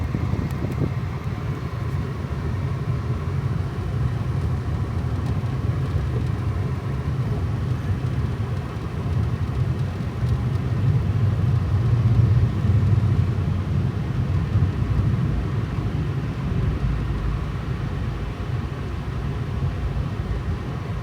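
A car drives through slush on a snowy road during a snowstorm, a steady low road rumble and engine drone with continuous wind-like noise throughout, no talking.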